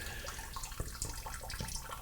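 Wet grain bag from home brewing an American brown ale drains into a pot, giving soft trickling and scattered drips at low level, with a few louder splashes, and no talk.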